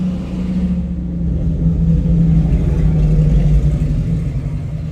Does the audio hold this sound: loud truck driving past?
yes